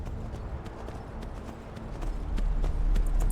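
Horse hooves clip-clop at a quick, steady pace during a ride in the Skyrim video game, growing louder and more driving toward the end, with no talking over them.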